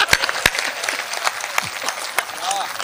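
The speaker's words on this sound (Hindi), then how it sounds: "बजा एक बार जोरदार ताली" An audience at a Rajasthani comedy poetry gathering breaks into hearty applause, sharp claps rising and falling over a few seconds, with a voice speaking over the clapping.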